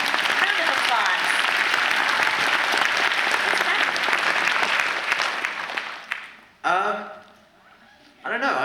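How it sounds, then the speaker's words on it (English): Sustained audience applause, dense and loud for about six seconds, then dying away with a voice speaking briefly over the tail and again at the end. "Round of applause"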